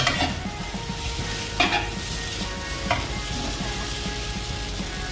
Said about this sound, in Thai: ผัดให้พออุ่นๆเนาะ